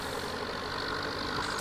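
Budget Eastern European tractor engine in Farming Simulator 17, idling with a steady, even mid-range drone and a slight knocking texture, held constant and close, alone.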